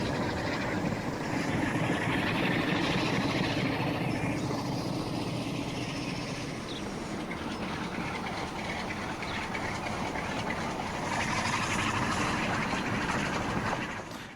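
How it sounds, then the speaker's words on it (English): Long cargo train rolling past in the video game Transport Fever 2, a loud continuous rumble with clickety-clack of wheels on rails, sustained for the whole stretch and gently swelling and fading. "It's quite a big train, this one."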